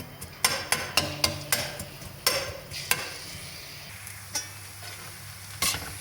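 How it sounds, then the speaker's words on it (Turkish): Dried onions frying in oil in a pan for spinach and cheese börek, with a steady sizzle under a series of sharp spoon or spatula knocks against the pan, loudest early on and fading later, no voices. "Burada da 2 kuru soğan, 1 su bardağı yağ. Önce soğanımızı kavuralım."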